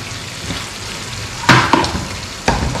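Turkish-style chicken cooks in a pan on a low flame, a steady loud sizzle broken by a few sharp clatters and bursts as the pieces are turned over.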